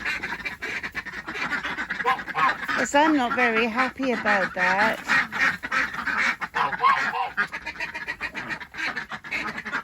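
Ducks quack and honk in a poultry tunnel shared with chickens, a run of repeated calls close by, mixed with a person talking over them.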